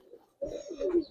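Giribaz pigeons coo once, a short, low, throaty call that starts suddenly after a brief quiet moment and is heard close by.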